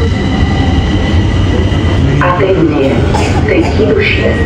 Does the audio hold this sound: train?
yes